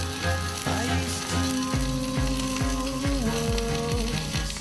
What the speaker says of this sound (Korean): 지글지글 식을 줄 모르는 곳의 솥뚜껑